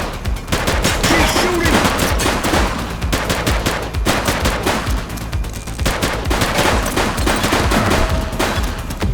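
Sustained automatic gunfire from a police shooter video game fills the scene, dense rapid bursts layered with crackling shots and brief shouted voices in the mix.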